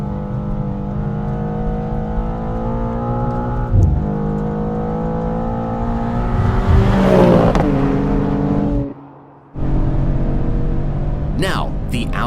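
A racing car's engine drones loud and steady through a track lap, its note shifting as it accelerates and brakes, briefly dropping out near the end before returning at full volume.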